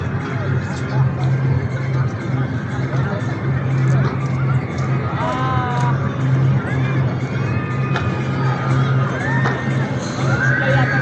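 Crowd of people and children shouting and calling out across an open area at Kuwait Winter Wonderland amusement park, a steady busy hubbub with scattered distant yells throughout.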